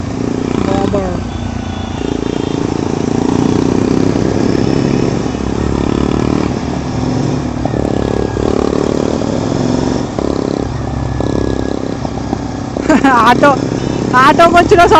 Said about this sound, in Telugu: ఆటోకి వచ్చిన సౌండ్ వస్తుంది దానికి.